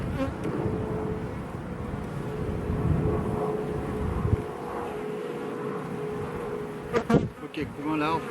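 Honeybees buzz steadily around populous apiary hives, a dense continuous drone close by that holds throughout, with a few brief louder passes near the end.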